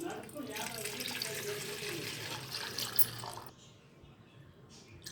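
Water runs and splashes steadily into a pot for a few seconds, then cuts off, leaving a quieter background.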